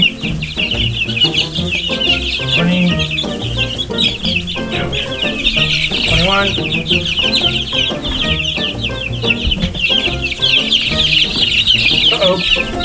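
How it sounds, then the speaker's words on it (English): A crowd of meat chickens clucks and squawks continuously, loud and close, a dense overlapping chatter with scattered sharper calls throughout, while a person briefly speaks in the midst of it. "I know you're not a goose. You're a chicken."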